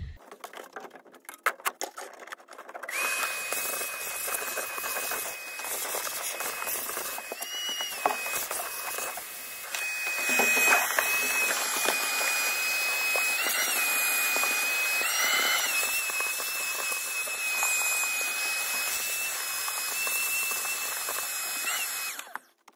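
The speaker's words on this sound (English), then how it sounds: "Next step is going to be to vacuum it all out." A shop vac vacuums out a tractor, starting after a few seconds of handling noise. A steady high whine and rushing air follow, shifting slightly as the nozzle moves, then cut off at the end.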